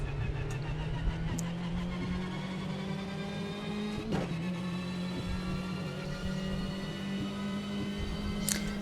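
A race car in a high-downforce setup laps an oval track in Automobilista 2, its engine a steady, fairly close drone whose pitch climbs slowly, with a brief dip partway through.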